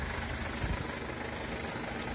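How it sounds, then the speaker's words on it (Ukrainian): A 2018 Mercedes-Benz Sprinter 316 van engine idles quietly and continuously, a low, steady hum with a faint vibrating rumble, no voices present. "Зараз машина працює, зараз машина працює."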